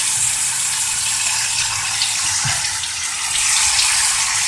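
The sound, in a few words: water flushing through car heater core hose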